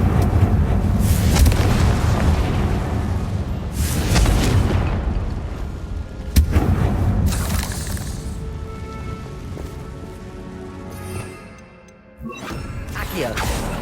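Explosion spells, Bombarda and Confringo, cast in Hogwarts Legacy: several heavy booming blasts with crashing debris and rumble that swell and fade, the last one followed by a short silence and a fresh burst.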